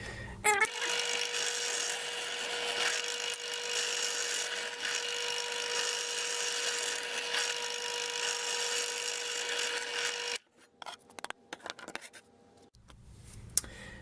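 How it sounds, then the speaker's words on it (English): A drill bores holes through an arcade cabinet panel backed by a backer board, a steady high whine lasting about ten seconds before stopping, followed by scattered clicks and handling noises. "So we're going to drill the outer holes."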